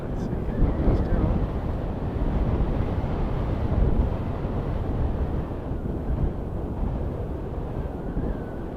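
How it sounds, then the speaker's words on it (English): Steady wind buffeting outdoors at an airport plane-spotting spot, a loud continuous low rumble and roar that fills the whole stretch without letup. "This wind wasn't really bothering us"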